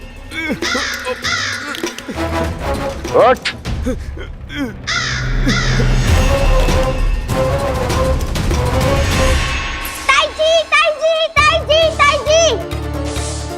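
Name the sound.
crow cawing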